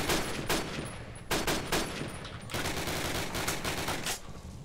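Machine gun fire in the World War II shooter Call of Duty: United Offensive during a team deathmatch, rapid bursts of automatic shots in several rattling volleys with short gaps, fairly close and crisp.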